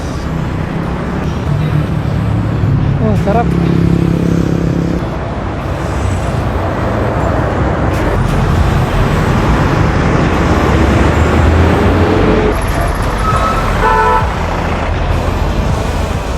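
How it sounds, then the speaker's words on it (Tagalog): Morning rush-hour traffic on a road near Makiling heading toward Santo Tomas, cars, trucks and buses rumbling past in a dense steady wash, with a few short horn toots and a brief spoken remark over the din. "Haba ng traffic dito"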